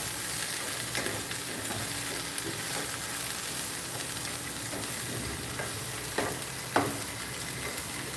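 Fresh, colorful vegetables stir-fried in a pan, a dense steady sizzle throughout with occasional clicks and scrapes of the utensil, close and fairly loud with no speech.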